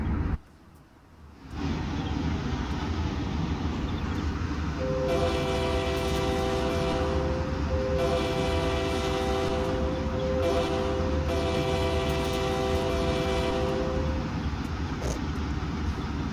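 A steady Burlington Northern diesel locomotive horn in a train simulator video game blares over a constant low rumble of the moving train, holding for several seconds with a brief break partway.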